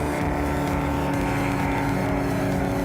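Race car engines roar loud and steady on a dirt track, a continuous close drone with shifting pitch as a car spins out in a corner.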